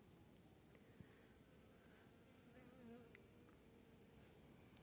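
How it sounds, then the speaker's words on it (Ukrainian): Bees buzz softly and continuously in a garden among flowering roses, a faint droning hum with a steady high-pitched insect whine behind it. "І ще літають бджоли."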